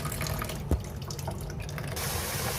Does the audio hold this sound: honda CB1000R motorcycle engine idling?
no